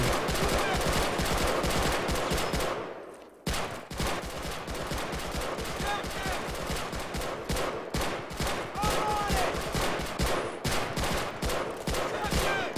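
Dense, continuous gunfire from the Men of War video game during a Pacific training mission: rapid machine-gun bursts and overlapping shots, loud and close. There is a short break in the firing just after the start.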